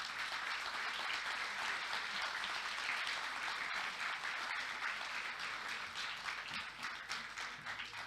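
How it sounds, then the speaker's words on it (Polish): Dense, sustained audience applause fills a regional ceremony for the Kuyavian-Pomeranian Voivodeship holiday in Włocławek, steady and loud throughout with no talk over it. "Teraz poproszę o gromkie brawa."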